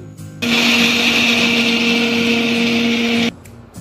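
A mixer grinder whirs steadily for about three seconds as it blends beetroot and carrot into juice, a loud, even motor drone that starts and stops abruptly, with no talking over it.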